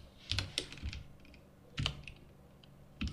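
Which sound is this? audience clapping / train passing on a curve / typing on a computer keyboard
typing on a computer keyboard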